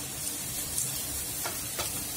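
Chopped onion sizzles steadily in hot oil in a pan, a constant close hiss with faint stirring clicks and no talk.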